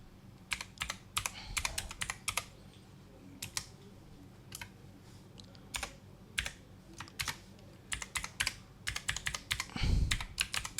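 Computer keyboard typing an email address into Outlook: close, crisp key clicks in irregular bursts and short runs with pauses between, no voices.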